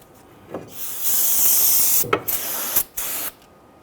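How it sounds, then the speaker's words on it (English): An aerosol can of solvent cleaner sprays onto the wheel hub of a Nissan Quest in a long hissing burst, then a few shorter sprays follow, close and loud, with no talking. "go ahead and spray it down with some solvent"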